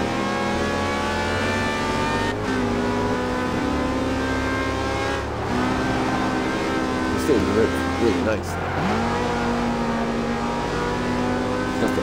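A car engine revs steadily in the racing video game Forza, its harmonic drone rising and falling across the whole stretch, with someone talking briefly over it.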